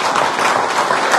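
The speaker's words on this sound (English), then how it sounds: "Can we give a round of applause to Professor Nuwagaba?" A brief burst of audience clapping follows a professor's talk on entrepreneurship, dense and steady for about a second.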